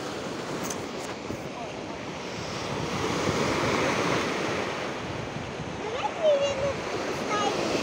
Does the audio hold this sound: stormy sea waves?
yes